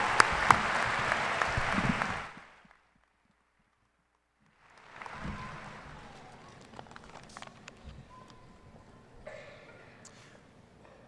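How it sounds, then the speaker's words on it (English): An audience at a graduation ceremony breaks into loud applause that stops abruptly, followed after a pause by softer scattered clapping and general crowd rustle in a large hall. "Let's give these ladies one more round of applause for a job well done."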